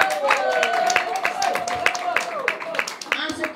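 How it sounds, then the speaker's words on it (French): A crowd applauds for Paul Biya at an RDPC campaign-closing ceremony in 2018, with steady dense clapping throughout and voices and cheering mixed in over the top. "Mais applaudissez pour Paul Biya."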